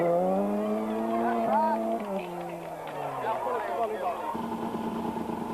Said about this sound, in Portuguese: Em troços rápidos e de bom piso, os 300 cavalos do Sierra tinham rédea solta e Joaquim Santos pôde assim consolidar o seu